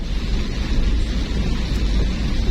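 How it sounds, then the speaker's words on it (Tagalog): Heavy rain pours down in a loud, unbroken hiss with a deep rumbling low end, steady throughout with no voices. "Ang lakas ng ulan."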